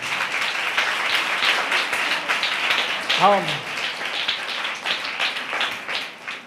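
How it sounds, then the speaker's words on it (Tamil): A church congregation claps hands together in sustained, dense applause that fills the whole stretch, with a voice briefly speaking over it partway through. "நல்ல கைத்தட்டி தேவனை மகிமைப்படுத்துங்க"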